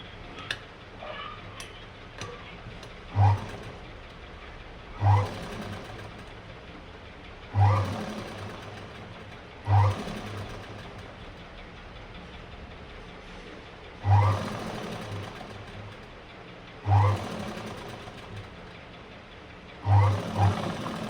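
A sewing machine stitches a kurti, a steady mechanical run with a soft thump recurring every two to three seconds, close and fairly loud, no talking.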